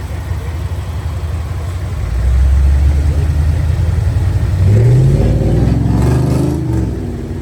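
An off-road overland truck pulls away carrying a passenger on a dirt trail, its engine rumbling steadily and then climbing in a loud rev before settling, with faint voices behind it.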